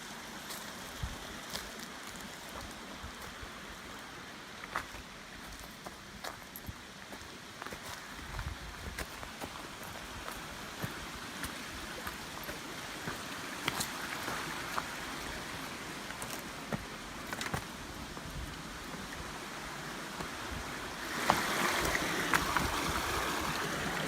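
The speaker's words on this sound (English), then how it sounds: "The water's still running up here." Water running in a forest stream, a continuous broad rushing wash with scattered splashy ticks, steady and moderately close, growing a little brighter toward the end; no one speaks.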